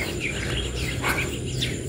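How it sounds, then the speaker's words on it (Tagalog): Outdoor birdsong near a home vegetable garden: a few light, high chirps and short calls scattered over a steady hiss of insects, moderately faint and with no voices. "Nakaka-relax po yung mga huni ng mga ibon."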